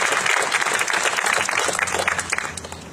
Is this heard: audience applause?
yes